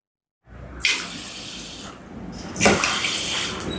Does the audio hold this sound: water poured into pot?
yes